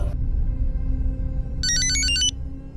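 A telephone rings in a police station during a crime drama, a short warbling electronic ring burst lasting under a second over a steady low background hum, with no speech over it.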